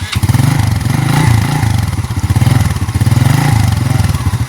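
A motorcycle engine runs close and loud, with a steady throbbing idle and slight swells in revs throughout.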